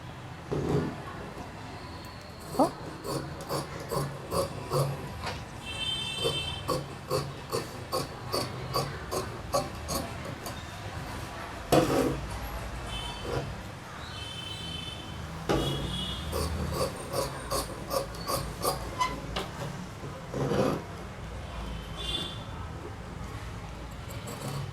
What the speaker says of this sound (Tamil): இப்போ நம்ம இதை கட் பண்ணலாம்.